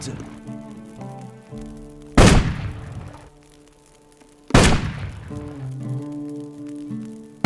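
Musket shots ring out in the video game Risen 2, two loud, sharp reports a couple of seconds apart with decaying echoes, over a background music score.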